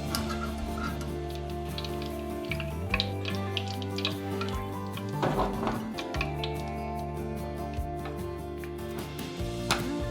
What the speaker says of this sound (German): Die Fleischstreifen bei ca. 180 Grad nochmal 2 bis 3 Minuten frittieren.